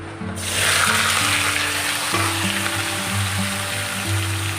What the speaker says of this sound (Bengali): আলু আর এঁচড় একসাথে ভেজে নিচ্ছি